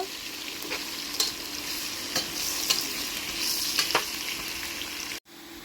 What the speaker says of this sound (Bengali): তো এবার আমি ভালো করে নেড়ে দেব। এগুলো লাল লাল করে ভেজে নেব।